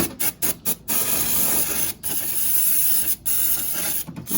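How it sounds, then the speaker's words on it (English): Brake cleaner hisses from an aerosol can onto car engine parts during a power steering pump replacement on a Honda Pilot, loud close bursts broken by several short pauses. "I'm going to spray some brake clean."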